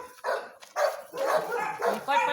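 Dog barking in short yaps and whimpers at a farm gate being repaired, close by and mixed with a voice.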